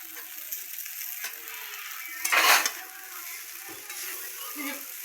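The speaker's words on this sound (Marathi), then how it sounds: "पोहे पण टाकल्या, सगळं हलवून दाखवते" Poha being stirred in a pan, with a soft scraping of the spoon against the metal over a low background hiss and one louder scrape in the middle.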